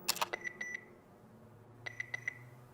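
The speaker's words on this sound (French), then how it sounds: "vous pouvez laisser un message après le bip" Two short bursts of rapid electronic beeps, each a quick series of four tones, separated by a pause over a faint low hum.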